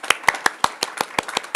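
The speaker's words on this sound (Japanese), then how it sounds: "もう一度大きな拍手をお願いいたします" Clapping at a hackathon demo day event comes as about nine sharp, evenly spaced claps in a quick, steady rhythm, close and clear with no talk over them.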